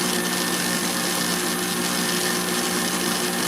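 An electric mixer whisks macaron meringue with a steady, loud, continuous whirring drone that holds unbroken throughout.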